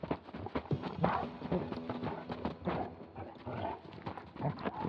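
Horses walk through a rugged canyon with uneven clip-clopping hooves during a search, the steps irregular and moderately close, with a dog also audible among the trampling.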